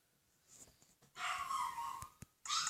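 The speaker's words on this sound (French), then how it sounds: "Avec le chien qui hurle à la mort, comme dans ma dernière vidéo." A dog howling in the Survivorcraft game, a sustained mournful wail that rises loud and holds for about a second, followed by short sharp yelps and another loud burst at the end.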